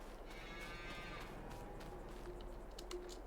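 Holstein cows moo in Farming Simulator 22, a few drawn-out lowing calls rising over a quiet steady background, faint and somewhat distant.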